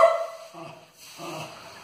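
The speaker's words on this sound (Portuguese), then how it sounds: "um cachorro latindo, bravo, ficando bravo com vassoura, latindo com vassoura." A dog barks and growls angrily at a broom, close and fairly loud, in two short bursts with a brief pause between them.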